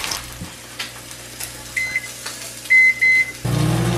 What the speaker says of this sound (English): I'm gonna just add them to this bowl and put them in the microwave for like 1 minute